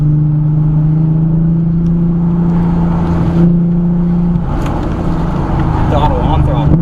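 Car engine on an autocross course, a steady droning hum that rises and shifts pitch as the car accelerates, with a voice talking over it throughout.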